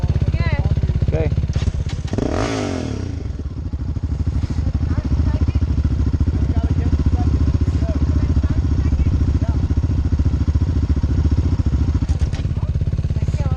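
Off-road quad or motorcycle engine at Banshee Hill, Winchester Bay dunes in Oregon, droning loudly and steadily throughout as it climbs a sand hill, with a brief rising whine near the start and people talking over it.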